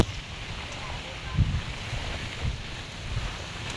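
A very strong wind buffets the microphone in low rumbling gusts, with heavier blasts every second or so over a constant blustery roar outdoors.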